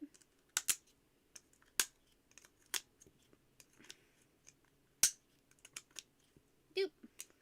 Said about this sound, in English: we're gonna use my not nice scissors and just boop